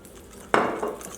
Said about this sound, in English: I'm using a fork because there's honey, so I find that a fork is better than a spoon